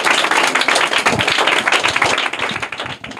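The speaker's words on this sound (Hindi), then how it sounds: "जोरदार तालियां इनके लिए।" Audience at a school quiz event in Bihar bursts into loud, dense applause: many hands clapping close by in a steady, crackling wash that lasts throughout, with no talking over it.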